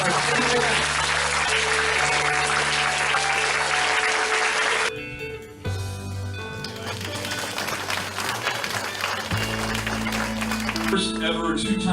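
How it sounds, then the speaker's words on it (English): Big round of applause from an event audience for a two-time champion, continuous dense clapping filling the whole stretch with a brief dip midway, loud and close throughout. "So, ladies and gentlemen, Miss Nafisa Minai, give her a big round of applause."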